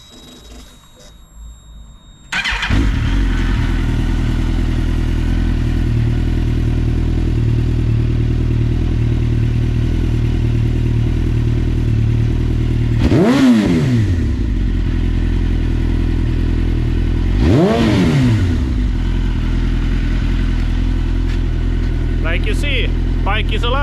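A Suzuki GSX-R motorcycle engine cranks and catches, then settles into a steady, loud idle, with two brief revs rising and falling partway through.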